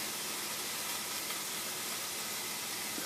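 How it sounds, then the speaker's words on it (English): Vegetables saute in a pan with a continuous, even sizzling hiss at close range that holds steady throughout, with no speech. "while my veggies are sauteing in there"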